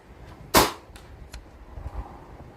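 A sub-12 air rifle fires a single pellet with one sharp, close crack, followed by faint clicks and light handling noise in quiet outdoor surroundings.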